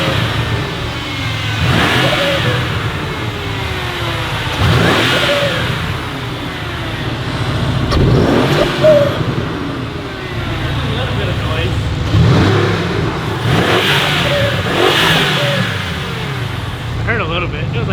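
A stock Audi A4 engine revs in repeated rising bursts about every three seconds, loud and close, with people talking over it.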